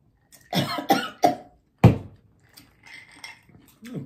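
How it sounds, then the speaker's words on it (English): A person coughs at a table during a meal, a cluster of three sharp coughs followed by a harder fourth, then faint clinks of dishes and cutlery. "Cover your mouth, coughing all over my food."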